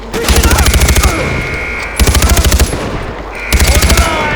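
Rapid automatic gunfire from the video game Far Cry 4 comes in three loud, evenly spaced bursts of quick repeated shots, with quieter game ambience between them.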